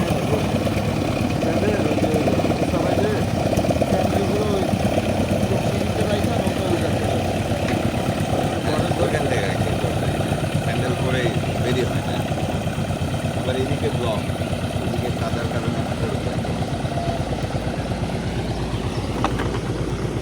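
A 75–85 engine on a boat crossing Chalan Beel wetland, a steady mid-pitched drone running throughout at close range, with people talking over it.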